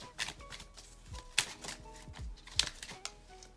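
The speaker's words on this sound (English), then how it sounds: "let me shuffle one out real quick" A deck of cards being shuffled by hand for a tarot-style card reading, heard as a rapid run of riffling flutters and sharp snaps in several bursts, close and fairly quiet, with no talking.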